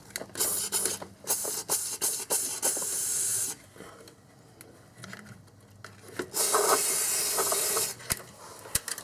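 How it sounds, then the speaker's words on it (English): A Rust-Oleum spray can hisses in repeated bursts of varying length inside the frame of a 2001 Infiniti QX4, close and fairly quiet, with short pauses and a few light knocks between sprays. "So I can spray up in there."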